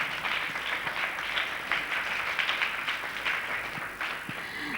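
Children's club audience applauding loudly at a Christian gathering, a steady dense wash of clapping that holds for the whole stretch with faint voices mixed in.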